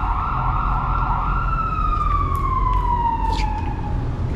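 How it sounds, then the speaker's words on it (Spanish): A loud alarm siren wails inside an abandoned asylum, a single steady tone that slowly slides downward over a noisy background. "Se acaba de abrir una alarma, no sé si vengan para acá."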